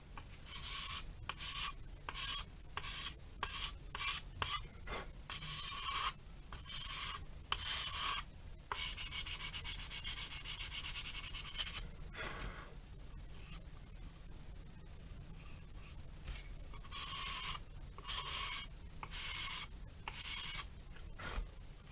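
Sandpaper rasps against the thin wing sheeting of a small plank-style model plane, fairing it into the leading edge. Short rhythmic strokes alternate with longer continuous scrubbing, close and steady, with no speech.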